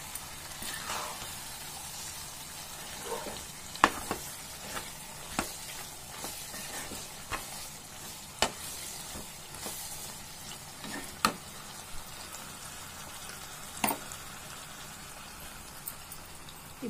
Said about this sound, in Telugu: కరివేపాకుని బాగా మిక్స్ చేసుకుంటాం.